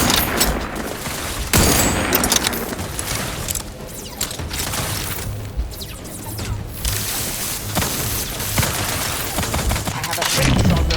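Rapid bursts of gunfire and impacts in a firefight in the video game The Outer Worlds 2, loud and dense, with sharp blasts and a voice heard briefly under the shooting.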